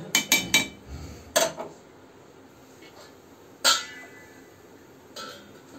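A lid is set down over a pot of mutton curry, several sharp metallic clinks and clatters of cookware close by, a quick cluster at the start and then isolated knocks spaced over a few seconds, with no talking.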